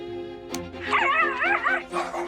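A dog lets out a quick run of high, wavering barks and yips at close range, loud and whiny, with a brief pause before a final yelp.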